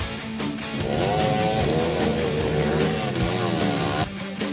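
Trail motorbikes race on a muddy circuit after rain at Wairagom, Kalianda, South Lampung. Engines whine and rise and fall in pitch as the bikes rev and pass, making a steady, loud roar over several seconds.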